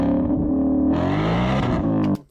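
An 870 hp 2026 Mustang RTR Spec 5 with a Borla exhaust gives a short, loud burst of harmonic exhaust roar that rises in pitch midway, then cuts off abruptly.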